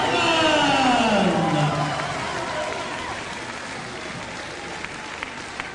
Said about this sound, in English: your sympathetic applause, please, for a very, very good challenge indeed from Stuart Green